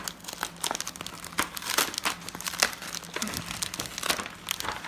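A taped paper insert from a card-making kit is pulled apart, giving a close, continuous run of crinkling and crackling paper with small tearing bursts.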